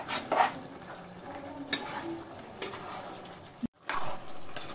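Grated ginger is stirred into a chicken do pyaza masala in a pan: scraping and spoon clinks over a soft sizzle, with a brief silent gap near the end.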